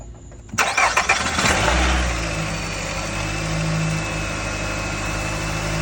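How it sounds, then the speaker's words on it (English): A car engine cranks briefly with a quick stuttering whir, catches and fires, then settles into a steady, close idle hum that continues to the end. "So I'm getting ready to start the car."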